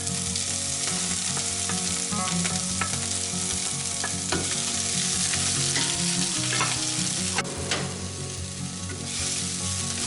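Onion fries in hot white oil, a loud, dense, continuous sizzle with crackling pops and occasional scrapes from stirring, over faint background music and no speech.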